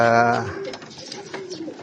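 A racing pigeon gives a short, close coo, followed by fainter murmuring and soft cooing from other pigeons in the background, in Bulalacao, Mindoro.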